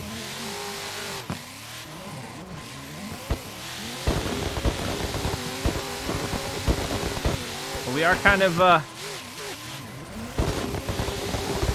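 Race car engine in a racing simulator game played with a MOZA Racing handbrake, revving and surging loudly through a busy stretch, with someone talking over it at points.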